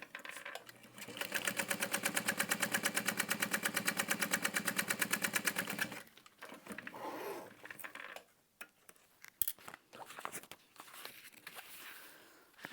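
A sewing machine stitches a quarter-inch seam on a handbag in a steady, rapid mechanical run for several seconds, then stops, leaving quieter fabric handling and rustling noises.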